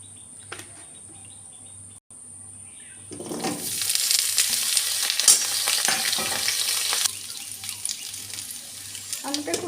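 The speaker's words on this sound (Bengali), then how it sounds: "আবারও তেল দিয়ে আলুটা ভেজে নেবো" Potatoes frying in hot oil in a pan: a soft crackle swells into a loud, steady sizzling hiss after a few seconds, then eases slightly toward the end, with no voices.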